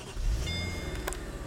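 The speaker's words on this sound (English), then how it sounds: "And it cranks right up." A 2008 Mercedes SL550 started by push button: a short starter crank catches into a steady low idle, quiet and close, with a brief whirring tone during the start.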